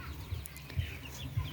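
Broiler chickens in a poultry house give low, soft clucks in a few separate bursts over a steady indoor background hum, with no talking.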